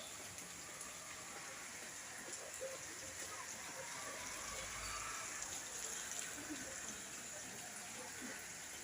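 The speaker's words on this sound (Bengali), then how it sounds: "আজকে সকাল থেকে বৃষ্টি শুরু হয়েছে" Early-morning rain falling steadily outdoors, a soft, even hiss of drops on surfaces that continues unbroken and sounds somewhat distant and quiet.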